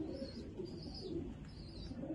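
A loft of about thirty pigeons cooing steadily at a low, soft murmur, the layered calls blending into a continuous faint background with no talk.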